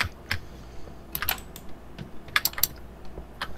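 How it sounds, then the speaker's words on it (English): Keys clatter on a mechanical gaming keyboard in irregular bursts of sharp, close clicks, with brief pauses between flurries and no talking. "It's a gaming keyboard."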